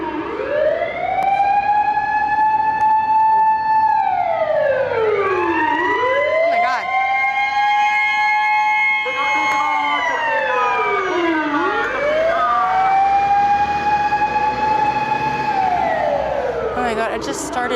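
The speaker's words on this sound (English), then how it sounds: "That was a fire truck" A fire truck siren wails loudly and close by, sweeping up and down in long, repeated rise-and-fall cycles that run without a break.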